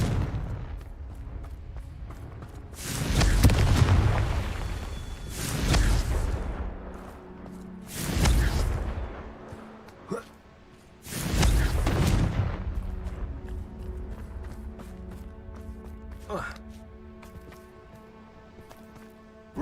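Confringo blasting spells exploding in a Harry Potter video game: four heavy booming blasts, each a loud burst that rolls off over a second or two, spaced a few seconds apart, with lighter magical chimes and effects in between.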